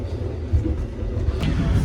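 The dining car of the Ranggajati train rolls along the rails, a steady low rumble with soft rhythmic clatter heard from inside the carriage.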